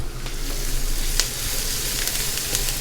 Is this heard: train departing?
no